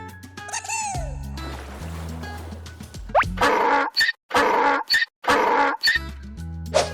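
A donkey brays loudly and close, its harsh, rasping hee-haw rising and falling in four strong alternating bursts after a short chime.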